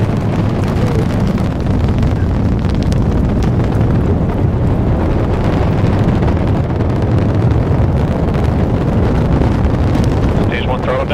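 A crewed Crew-11 rocket lifts off as its first-stage engines roar in a dense, continuous rumble with heavy wind buffeting the microphone, loud and steady throughout.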